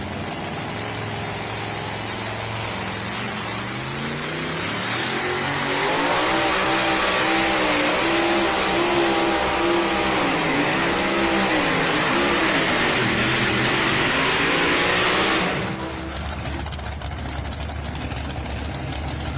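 Pulling tractor from Lee, Nebraska making a run down a tractor pull track, a loud sustained engine roar that swells and labours with wavering revs for about ten seconds, then cuts off abruptly, leaving a low idle.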